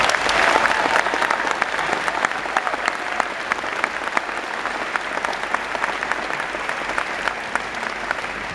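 An audience gives a round of applause for an honored graduating class at a commencement ceremony, with dense, steady clapping that holds loud and even from start to finish.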